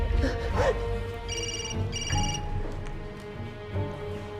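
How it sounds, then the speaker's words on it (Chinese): A telephone rings in two short electronic bursts over a murmur of background sound and voices. "接电话"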